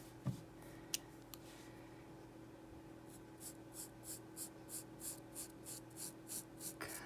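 Scissors snip through fabric for a pug's Halloween costume, with a close, steady series of about ten short cuts in an even rhythm and no talking.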